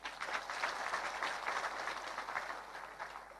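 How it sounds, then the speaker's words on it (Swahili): Steady applause from a crowd at a Kenyan political gathering, many hands clapping continuously at an even, fairly loud level with no pauses. "Deputy Governor wa Nyeri, Waroe Kenanire, mpigieni makofi."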